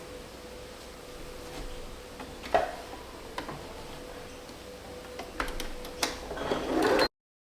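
A sewing machine stitches in the ditch along the binding of a baby romper, giving a quiet, steady motor hum with soft scattered ticks that grows busier and louder toward the end.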